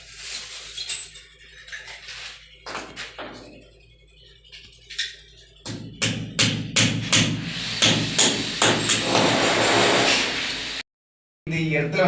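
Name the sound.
hammering a nail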